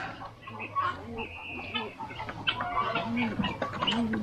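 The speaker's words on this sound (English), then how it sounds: "Chickens and turkeys all hanging out together in peace." Several chickens and turkeys cluck and murmur in an outdoor flock in Romania, with scattered calls overlapping at moderate distance under light background noise.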